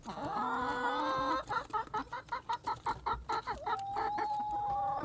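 Hungry chickens cluck loudly at feeding time, a dense stream of rapid, choppy calls with a longer sustained squawk at the start and another near the end, close by.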